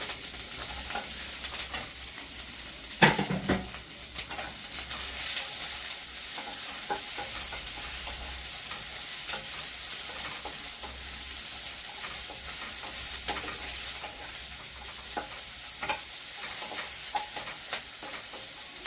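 Capsicum stir-fries in a wok with onion for chilli paneer, a continuous close sizzle with intermittent scraping and clanks of a spatula, one sharper knock early on, and no voices.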